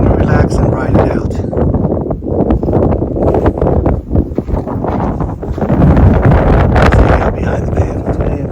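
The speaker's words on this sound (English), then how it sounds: "It's getting a little windy today." Gusty wind buffets the microphone at a lakeside campsite at Diaz Lake near Lone Pine in the Sierras, a steady loud rumble with rustling across the whole stretch.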